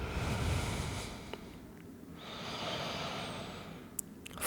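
Slow, steady breathing from a person resting in child's pose during an intermediate inverted yoga flow, soft airy inhales and exhales, close and alone.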